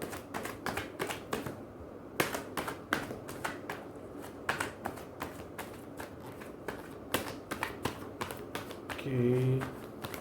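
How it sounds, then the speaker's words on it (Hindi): Tarot cards being shuffled by hand, a quick series of crisp riffling snaps and taps, close and fairly faint, with a brief voice near the end. "मैं कार्ड शफल कर रहा हूं"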